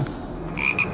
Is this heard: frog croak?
yes